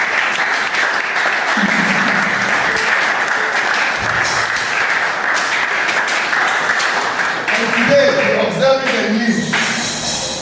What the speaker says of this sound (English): So clap again for them.